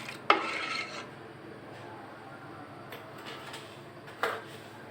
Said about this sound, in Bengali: ভালো করে মিশিয়ে নিয়ে এবার আমি ঘন ঘন নাড়তে থাকবো।